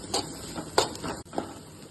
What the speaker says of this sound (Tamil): இப்போ நம்ம வந்து பூண்டும் கொஞ்சம் பச்சை மிளகாயும் சேர்த்துக்கிறோம். நல்லா வதக்கிக்கோங்க.